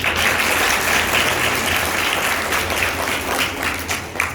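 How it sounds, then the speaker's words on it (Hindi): A crowd of devotees at a Kanya Pujan ceremony at Jasol Dham in Balotra, Rajasthan, breaks into sustained, dense applause that stays steady and loud throughout. "हम सभी को एक जोरदार ताली बनता है"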